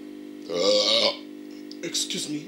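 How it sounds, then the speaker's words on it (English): A person burps loudly once, a throaty croak lasting about half a second, followed later by a shorter burst of voice-like sound over a constant electronic hum from a damaged tape. "Excuse me, I burped."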